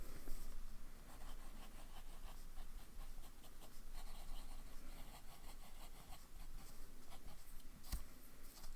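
A Lamy Aion fountain pen with a medium nib writes on paper with a steady, close, scratchy rasp made of short strokes, faint and continuous and with no talking.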